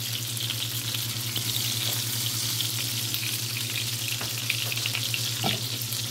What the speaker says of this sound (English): Just simmer it real good.